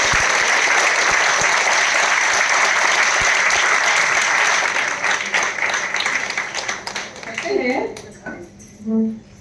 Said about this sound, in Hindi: एक दमदार, धमाकेदार ताली अपने लिए